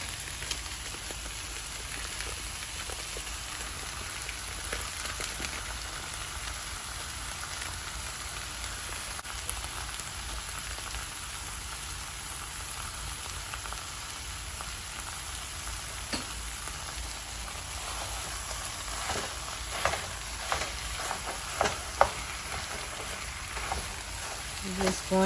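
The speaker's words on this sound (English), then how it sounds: "We're just going to try to chop down our sausage, get it to brown status." Beef chorizo sausage sizzles while browning in a pan, a steady close hiss of frying with a few sharp scraping clicks toward the end.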